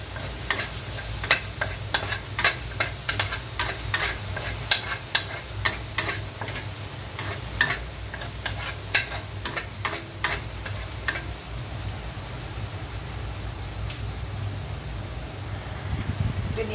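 A tablespoon of garlic frying in a pan for Chinese kiamphong, a steady soft sizzle broken by regular, sharp spatula scrapes and taps, heard close with no talk.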